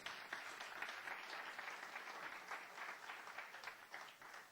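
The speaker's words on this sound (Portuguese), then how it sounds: "Vamos aplaudir ao Senhor Jesus." A church congregation claps together for several seconds, a dense, even wash of applause heard at a moderate distance and fairly quiet, with no talking over it.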